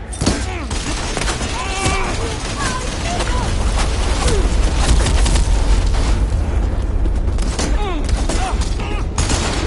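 Weapons fire and booming impacts crash through a combat scene in Horizon Forbidden West, a loud sustained barrage with voices calling out over the chaos.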